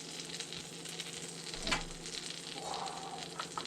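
Food fries in a pan with a soft, steady sizzle and light crackling, fairly quiet, broken by a brief louder spatter midway.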